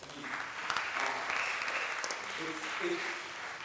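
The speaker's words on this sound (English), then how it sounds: "Please, let's give him another round of applause." Audience applause at a children's climate summit, a steady dense wash of clapping held at even loudness for several seconds, with some talk mixed in.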